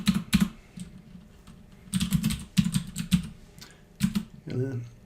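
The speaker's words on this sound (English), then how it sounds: "let me type it in" Bursts of keystrokes on a computer keyboard as a MySQL command is entered, clustered clicks in irregular runs with pauses, close and fairly loud, with a brief voice near the end.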